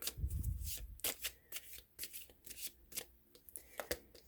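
Tarot cards being shuffled by hand, a quick series of crisp riffling flicks and soft slaps, close and fairly quiet, with no talk.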